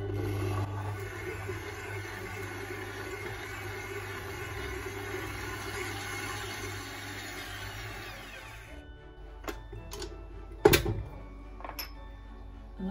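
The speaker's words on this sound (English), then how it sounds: "I'm going to mix it for 5 minutes until it fluffens up and becomes creamy" Electric hand mixer beating room-temperature butter for Christmas kourabie cookies, a steady whirring drone that runs for about nine seconds, then stops, followed by a few sharp knocks and clatters.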